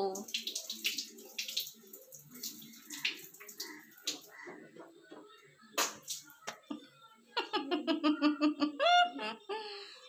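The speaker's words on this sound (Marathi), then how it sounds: "स्वच्छ धू तोंड. धू चांगली. अजून धू." A small child washing his face under running water, with soft splashes and a trickle in short bursts, mixed with close adult talk, a child's giggles and vocal sounds.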